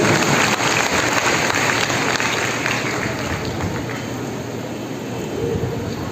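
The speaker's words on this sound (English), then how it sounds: "give a big round of applause for all our achievers" Dense, sustained applause from parents, teachers and students at a school felicitation ceremony for state and school toppers, a steady wash of many hands clapping at even loudness throughout.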